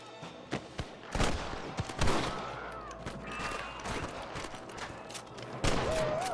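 Gunfire in the Western video game Red Dead Redemption: a string of sharp, close shots at irregular intervals, some in quick pairs, over an outdoor game ambience with faint voices mixed in.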